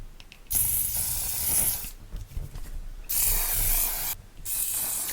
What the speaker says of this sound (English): And you just spray it, you shake it up like this, and you spray it on.